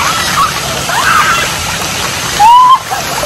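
Outdoor splash park with water splashing and sloshing as a steady wash of spray under a busy open-air background, with a brief whistle-like tone and voices faintly mixed in.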